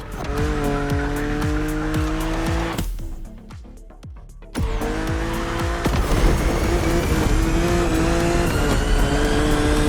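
A BMW Z4 E89 racing in The Crew Motorfest video game, its engine droning with steady harmonics and tires squealing. The sound cuts out briefly midway, then the engine roars back and holds loud to the end.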